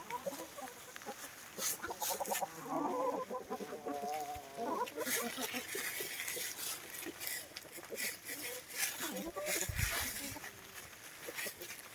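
A flock of chickens clucks outside their coop, with close, busy clucking and short calls mixed with outdoor rustling and faint voices in the background.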